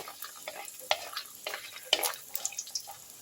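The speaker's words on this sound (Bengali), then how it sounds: "আমি যে বড়িটা ব্যবহার করব সেই বড়িটাকে একটু আমি ভেজে নিচ্ছি।" Lentil dumplings (bori) fry in mustard oil in a wok, a soft crackling sizzle broken by scraping stirs and light clinks, close and fairly quiet, with no talk.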